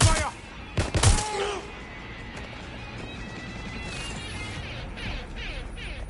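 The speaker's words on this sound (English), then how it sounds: "That sounds like gunfire." Gunfire in the video game Watch Dogs: Legion, with a few sharp loud bursts and crashes at the start, then a steady din of distant shooting and game ambience.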